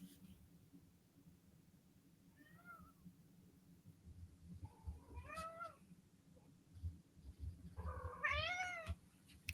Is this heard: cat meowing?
yes